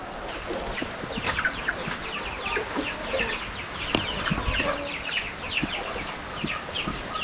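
Chickens clucking and calling in a farmyard, several birds scattered at varying distances, with short rising and falling notes over a steady rustling background and no talking.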